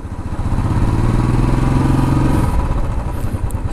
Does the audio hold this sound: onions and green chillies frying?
no